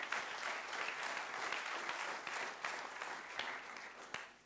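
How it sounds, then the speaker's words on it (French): Audience applause for a startup pitch at a startup contest during the West Web Festival: a steady, dense round of clapping from a sizeable crowd that holds for several seconds. "Merci, on peut t'applaudir."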